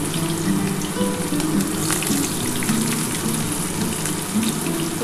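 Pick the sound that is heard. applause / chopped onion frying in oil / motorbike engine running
chopped onion frying in oil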